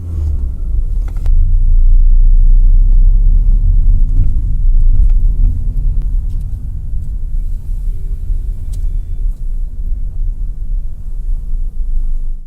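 A car being driven and then parked at Longewala near Jaisalmer, a continuous low engine and road rumble, loud and close, gradually easing and settling toward the end, with no speech.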